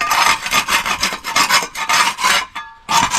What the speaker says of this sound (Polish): Tylko skrobne, jak coś tu wystaje.